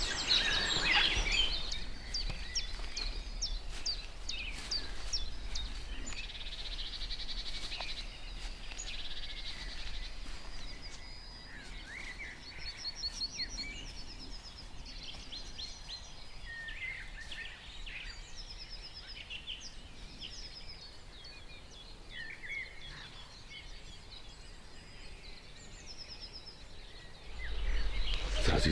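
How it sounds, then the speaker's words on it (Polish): Outdoor spring dawn chorus on a frosty morning in Polish hill country, with birdsong scattered through the upper range and occasional pheasant calls over a low steady background hum, mostly moderate and distant. "słychać ptaki śpiewające, bażanty tokujące"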